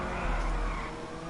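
A Rune Cheburek car engine in Grand Theft Auto 5 drones loudly and steadily for a brief moment, a deep continuous roar with no voices.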